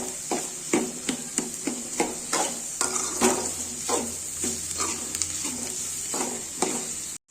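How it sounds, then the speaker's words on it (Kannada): Chopped onions frying in a pan for egg bhurji, a steady sizzle broken by repeated scraping and stirring strokes of a utensil against the pan, close and clear with no talking. "ಸೊ ಇದು ಉಳ್ಳಾಗಡ್ಡಿನ ಫ್ರೈ ಮಾಡ್ಕೊರೋಣ."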